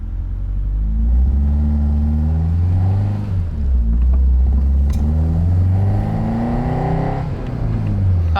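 A 1977 Toyota Celica with a swapped Honda F22C engine revs hard through rising and falling pulls, loud and close from inside the car, with brief shifts between gears.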